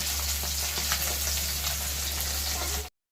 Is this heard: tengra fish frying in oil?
yes